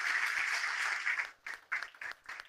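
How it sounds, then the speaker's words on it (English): A full-house audience at a Porto hangout event applauds in a dense, steady wash of clapping for just over a second, then thins into scattered separate claps and short bursts as it dies away. "A round of applause to everyone."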